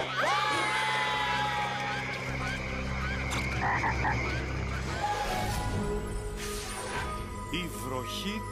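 Cartoon frogs croaking in a raining-frogs scene from the 2008 Gormiti episode Toad House Blues, a dense chorus of loud, warbling croaks and rising chirps layered over music and busy background sound.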